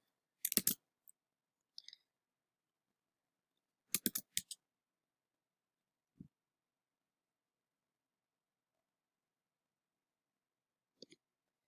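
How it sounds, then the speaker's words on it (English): A computer mouse gives a few sparse, crisp clicks spread across long silences, some in quick pairs or clusters, close and quiet. "I'm going to click on the link"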